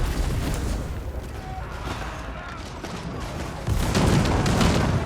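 A mangonel volley in Age of Empires: rumbling booms and crashing impacts under steady battle noise, swelling louder near the end as the siege stones land, with a voice talking over the din.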